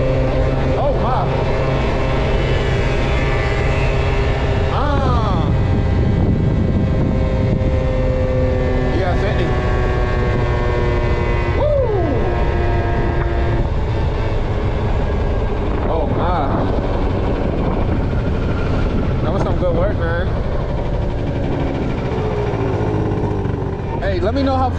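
A 50cc scooter runs flat out at top speed, its small engine droning steadily and loudly throughout, mixed with rushing wind noise, while a rider talks over it now and then.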